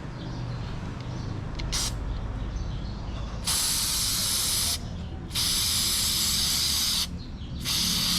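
Repeated bursts of aerosol cleaner sprayed onto a Kawasaki Ninja ZX-4RR chain or air filter during maintenance, several long hissing blasts separated by short pauses, close and loud over a low background rumble.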